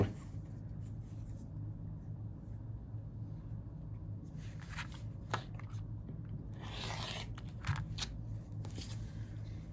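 Scissors or a rotary cutter slice through striped fabric along a ruler, giving faint scratchy cutting strokes and soft rustles over a quiet room hum.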